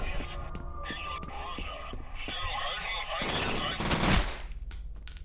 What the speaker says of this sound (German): Die fangen an zu schießen.